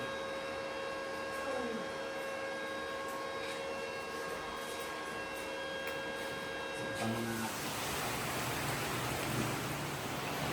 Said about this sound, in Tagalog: Ay, umuulan. Hello. Ulan sa labas.